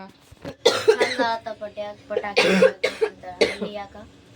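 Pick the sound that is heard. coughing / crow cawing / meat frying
coughing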